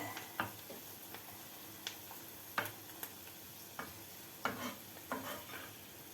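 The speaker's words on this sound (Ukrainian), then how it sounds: "Нехай смажиться до зміни кольору" Quiet sizzling in a pan with scattered soft pops and clicks, the occasional scrape of stirring, faint and close.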